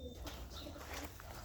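Racing pigeons coo softly from a loft, low murmuring calls repeating under faint background noise.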